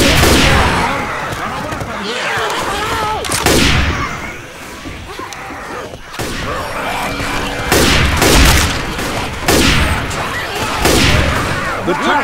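Rapid bursts of gunfire from the zombie shooter Left 4 Dead 2 crack and boom repeatedly in loud clusters, with short lulls between volleys, while in-game character voices shout over the shooting.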